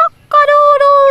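A human voice imitates a rooster's crow, delivering one loud, sustained, tonal call that wavers slightly in pitch before cutting off, following a brief short note and a pause.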